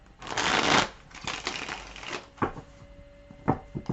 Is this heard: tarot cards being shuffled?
yes